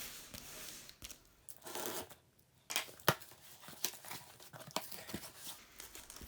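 An ordinary pair of IKEA scissors cuts open a cardboard box of watch accessories. Quiet, close snipping, tearing and crinkling bursts come in an irregular rhythm with no talking.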